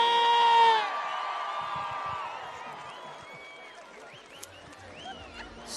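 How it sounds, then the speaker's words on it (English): Crowd cheering and whooping at a PBR Australia bull riding event, the Monster Energy Tour Orange Invitational, loudest in a brief swell at the start and then thinning into scattered distant cheers under a steady arena roar. "How about a big cheer for Lordy?"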